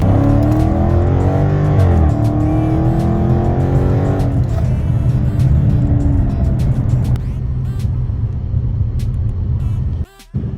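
A Dodge SRT car accelerating hard, loud engine roar climbing through the revs with shifts, then dropping off near the end after about ten seconds, close and dominant with no talk.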